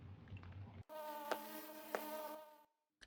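Bees buzzing in the Minecraft ATM10 modpack, a steady insect drone with a couple of brief louder bursts, heard alone and fairly faint before cutting off.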